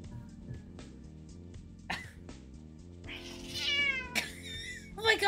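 A pet cat meows and yowls loudly at close range in a home, a few drawn-out, rising cries near the end following quieter murmuring, with a person talking softly underneath.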